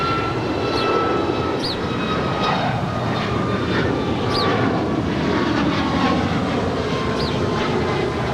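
A steady, broad engine roar from an American Airlines airliner taking off from runway 25 right at LAX holds throughout, with faint rising whines over the constant jet noise.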